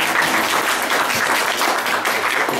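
An audience at a holiday concert in a culture centre breaks into loud, dense applause for a singer, continuous clapping filling the hall without any voices over it.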